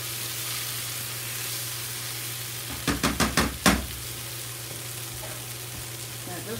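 Tomatoes cooking in a pan for jambalaya, a steady close sizzle with a low hum beneath and a quick run of five sharp knocks, like a spoon tapping the pan, partway through.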